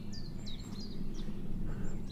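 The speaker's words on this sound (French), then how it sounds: "offert par tous ces oiseaux heureux d'avoir un espace où ils peuvent s'exprimer en paix" Birds chirping outdoors near a garden pond being dug, several short high tweets and trills scattered over a low steady rumble, faint and distant.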